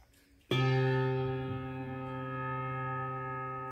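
A Malmark handbell from a five-octave handbell choir set rings its low C once, struck sharply and then sustaining a rich, steady tone that barely decays over several seconds.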